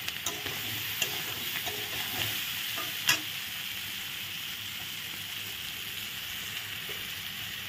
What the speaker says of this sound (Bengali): লবণগুলো দিয়ে আমি ভালো করে ভাজা করে নিলাম, একটু কষিয়ে নেব।